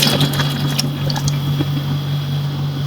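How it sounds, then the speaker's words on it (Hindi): Hot water pours steadily into a pressure cooker of beef nihari, close by, with a constant hum running underneath. "इसमें आप गर्म पानी अपने हिसाब से शामिल कर लें"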